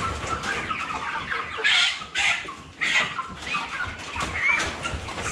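Thirty-day-old Cobb 500 broiler chickens cluck and squawk in a close, busy chorus, with several louder bursts of calls standing out above the flock.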